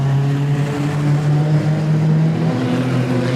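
Junior sedan race cars roar off at the start at Gympie Speedway, a dense, loud engine drone with steady revving tones that fill the whole stretch.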